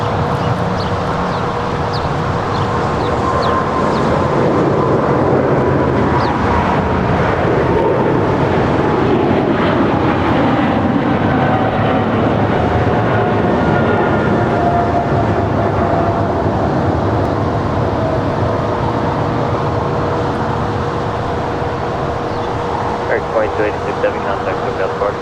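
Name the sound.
Boeing 747 jet at Los Angeles airport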